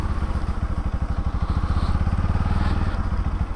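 A motorcycle engine thumps in a steady, rapid rhythm while riding slowly on slushy forest roads near Kudremukha, loud and close throughout with no pauses.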